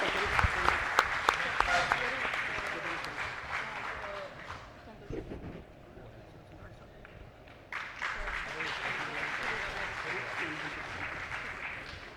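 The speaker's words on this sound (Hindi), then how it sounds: "बहुत बहुत धन्यवाद आपकी तालियों का।" Audience applause at a formal event honouring a guest, loud clapping that fades into a quieter lull with a voice over it, then swells again into sustained clapping.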